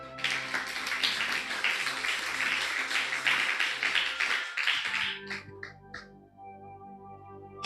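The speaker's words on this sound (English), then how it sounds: "Clap hand for hearing such." A congregation at a church service clapping their hands, a dense, loud, sustained round of applause that fades into a few scattered final claps.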